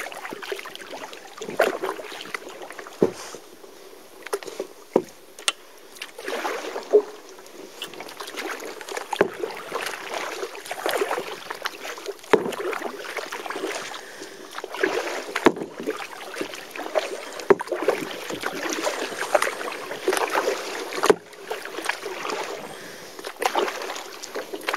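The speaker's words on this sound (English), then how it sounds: "Going to enjoy paddling back." Rhythmic kayak paddle strokes splash and drip on open bay water at close range, repeating steadily under a constant wash of wind and lapping water.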